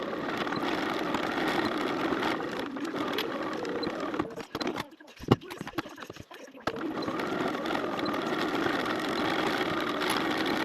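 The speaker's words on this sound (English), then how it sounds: "now over to the machine, and we're going to sew with a 1/4 inch seam allowance across this top here only" A sewing machine stitches a quarter-inch seam across the top of a Bag 934 backpack made with vinyl and webbing, giving a steady close whir that breaks off briefly midway before resuming.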